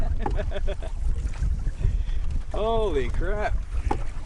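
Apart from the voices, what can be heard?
headwind blowing while canoeing on a river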